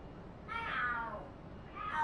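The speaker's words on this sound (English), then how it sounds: "Are there cats fighting?" Two drawn-out cat yowls, a long wavering screech and then a second cry rising at the end, fairly close and alone over a quiet background, from cats fighting in the video game Lost Judgment.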